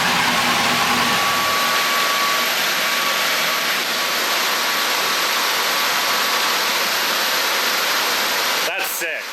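A nitrous-fed, LS-swapped BMW E36 runs hard on a dyno, a loud steady roar of broadband engine and exhaust noise that holds for most of the stretch before cutting off near the end, with voices faintly underneath.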